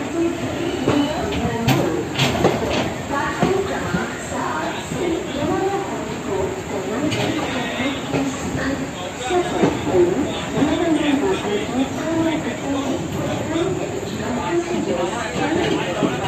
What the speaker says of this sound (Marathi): आता गाडी रत्नागिरीवरून निघाली